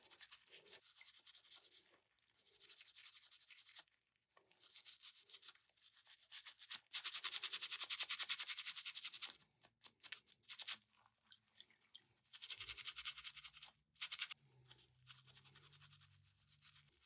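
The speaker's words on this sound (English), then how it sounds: "we're getting them clean nice and good here with our toothbrush and soapy water" A toothbrush scrubs the screens of Nintendo Switch OLED Joy-Con controllers with soapy water in bursts of close, rapid bristly rubbing separated by short pauses, with a low hum near the end.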